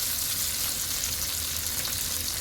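Garlic and onion sauté in a pan for pinakbet, giving a dense, even, close sizzle that holds steady without a break.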